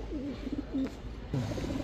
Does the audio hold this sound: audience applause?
no